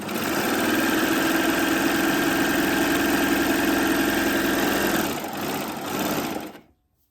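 A Baby Lock Acclaim overlocker sews a seam, running loud and steady with a high mechanical whir for about five seconds, then slowing in a short uneven stretch before stopping.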